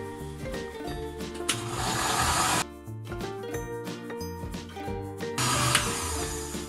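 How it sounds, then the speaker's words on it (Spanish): A kitchen blender whirs through onion chunks for a stuffed-chicken recipe. Its loud motor drone stops briefly, restarts in pulses and ends with another strong burst of whirring. "Ahora lo que vamos a hacer es accionar nuestra licuadora para empezar a hacer el batido."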